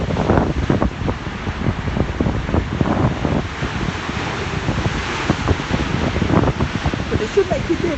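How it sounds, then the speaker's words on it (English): Loud sea surf at the ancient port of Akko, a steady broadband wash with rolling swells and gusty wind rumble at the microphone, with a voice talking over it in places. "Yeah, the sea's loud."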